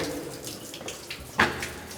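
Water trickles through a sealed WWII ammunition shaft, a soft, quiet running flow with one brief sharper splash partway through.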